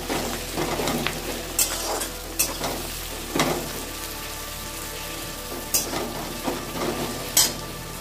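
Green chillies fry in a pan of jackfruit chicken curry, giving a steady close sizzle broken by scattered sharp scraping and stirring clatters, with no one talking.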